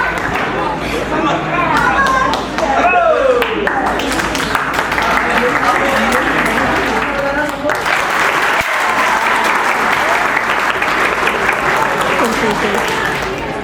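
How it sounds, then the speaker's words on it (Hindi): An audience at a school Independence Day celebration claps loudly and continuously for a young singer, with crowd chatter and some voices mixed into the sustained applause. "एक बार जोरदार तालियां हो जाए"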